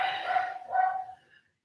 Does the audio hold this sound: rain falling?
no